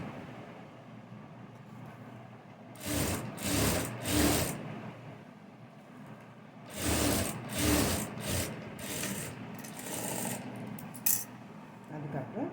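A sewing machine stitches along the folded, creased edge of a blouse in two clustered bursts of rapid running, with quiet pauses between the runs.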